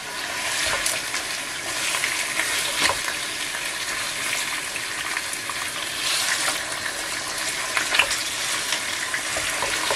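Chicken pieces sizzle in a shallow layer of hot olive oil in a pot on the stove, with a steady, close crackling hiss throughout and occasional louder pops and spatters.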